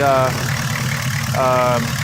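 A 1981 Oldsmobile Cutlass diesel, a gas engine converted to diesel, idles with a steady low rumble close by, while someone talks over it.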